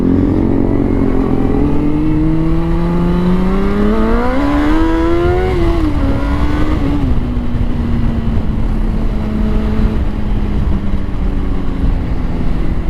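Honda CBR 600RR sport motorcycle riding along, its engine note climbing through revs and settling into a steady drone under constant heavy wind rush, loud and close throughout.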